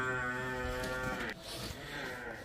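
Buffalo on a dairy farm lowing in one long, loud, harmonic-rich moo that stops abruptly partway through, followed by quieter farmyard background.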